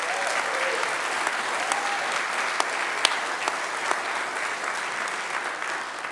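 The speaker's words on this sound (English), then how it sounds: "Please give them a round of applause." A congregation at a celebration for a retiring rabbi gives a round of applause, with steady, dense clapping from a sizable crowd and a few sharper individual claps standing out.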